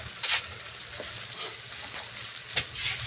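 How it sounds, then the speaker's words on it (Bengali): Drumstick and pumpkin curry fries in a pan under a soft steady sizzle, punctuated by a few sharp scraping stirs. "এখন ভেজে নিচ্ছি,"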